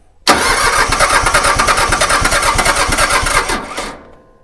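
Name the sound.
small Iseki tractor engine cranking and starting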